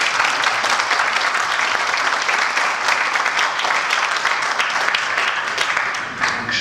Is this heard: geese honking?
no